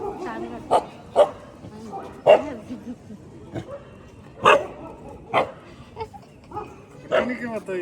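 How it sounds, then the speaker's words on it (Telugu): A dog barks in short, sharp bursts several times, spaced irregularly, with whimpery yips, close by and fairly loud. "అయ్యయ్యో కుక్క"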